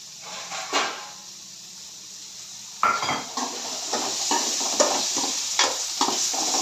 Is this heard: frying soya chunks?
yes